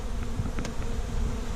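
A swarm of honey bees buzzes close around a wooden hive box set with frames of sugar water and honey, a dense continuous drone with a few brief higher whines, no voices.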